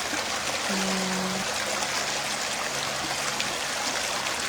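Stream water tumbling over stones in a West Coast outdoor setting, a continuous close rushing and trickling wash with steady loudness and no talking.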